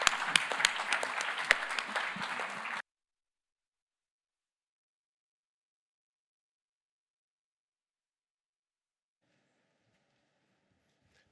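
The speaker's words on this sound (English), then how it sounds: "You may clap now." An audience claps after a speaker is introduced at a memorial lecture of a political forum, a dense round of applause for about three seconds, then it stops abruptly and silence follows.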